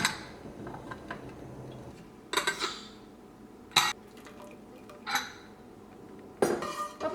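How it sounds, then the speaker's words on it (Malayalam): A lid goes onto a pot of dal, sounding as a few separate sharp metallic clinks and clanks spaced seconds apart over a quiet background, fairly faint and close. "അപ്പോൾ ഇത് മൂടി വയ്ക്കുക."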